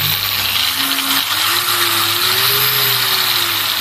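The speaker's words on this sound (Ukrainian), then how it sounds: "запускаю болгарку, вона працює на мінімалках" A cheap angle grinder runs on low mains voltage as the supply is turned up, a loud continuous motor whine whose pitch climbs slowly and steadily.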